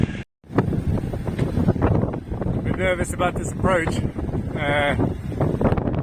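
Strong wind buffets a microphone beside a sailboat being hauled out of the water to check for damage, a continuous rough rumble with a brief dropout near the start, while someone speaks over it.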